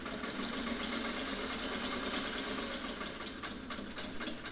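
A Singer 185J sewing machine stitching through several layers of material and then back tacking, giving a steady, continuous mechanical whir with a fast rhythmic chatter that runs without a break and never stops.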